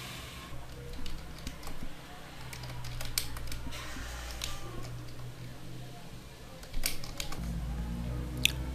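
Typing on a computer keyboard while entering running text in Notepad, heard as a steady stream of soft, close key clicks with small irregular bursts over a low background hum.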